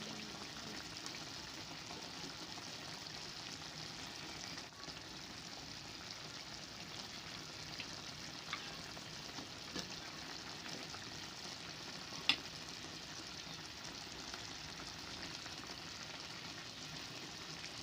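Onions fry with a fish steak in a covered pan, giving a faint, steady sizzle with occasional small ticks and pops.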